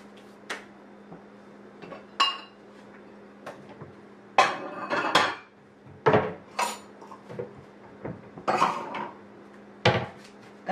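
A metal cooking pot for pork is handled in a home kitchen, giving irregular clanks and knocks of cookware and utensils, fairly close and clear, with quiet gaps between the hits.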